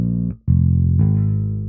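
A real bass guitar plays sustained low notes for a bathroom-themed music track, three held notes separated by a brief gap and a pitch change, deep and resonant, close and clear without talking.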